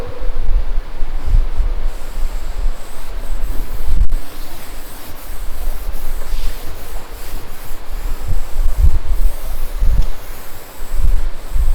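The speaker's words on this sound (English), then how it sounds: "So I am rubbing the board." A classroom board is rubbed clean in a steady, continuous scrubbing that carries on for several seconds with slight swells in loudness, close and fairly loud with no talking.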